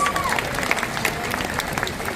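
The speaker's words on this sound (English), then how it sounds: "Let's give him a big round of applause." Audience applause at a seal show, a steady wash of clapping from a crowd that fills the whole moment, with some voices mixed in.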